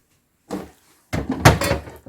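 Refrigerator door handled while making homemade lemonade: a short soft thump, then after a pause a louder cluster of rattling clunks as the door opens and shuts nearby.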